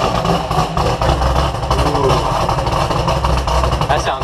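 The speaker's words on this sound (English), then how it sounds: "Sounds good with that Vengeance racing cam in there." A Chevrolet Corvette C5 V8 fitted with a Vengeance Racing cam runs steadily nearby with a lumpy, throbbing idle. Its continuous rumble fills the whole stretch at a fairly loud, even level.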